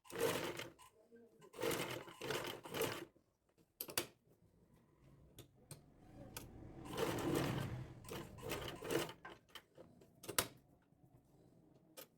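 A sewing machine stitching slowly around the corners of a garment, running in short separate bursts with pauses, with talk over parts of it.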